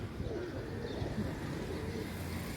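A pigeon coos in a kept pigeon loft, with soft, low, murmuring calls repeating under a steady background hum, close but faint.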